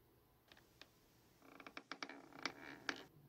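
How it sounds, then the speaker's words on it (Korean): Creaks sound from upstairs in a quiet house, starting as a few sparse, faint ticks and then becoming a denser run of sharp wooden creaks and clicks, with no speech. "삐걱거리는 같은 소리가 더 위쪽에서 울렸다"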